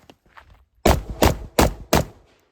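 Four loud shots from a Ruger SFAR .308 rifle at an outdoor shooting range, evenly spaced sharp cracks fired in quick succession after a few faint handling sounds.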